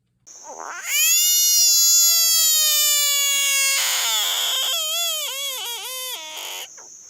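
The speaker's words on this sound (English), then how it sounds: "The bullfrog gets its name from the sound the male makes during breeding season" A male bullfrog gives a loud, drawn-out wailing breeding-season call, high and tonal, wavering and breaking into shorter pulses before stopping.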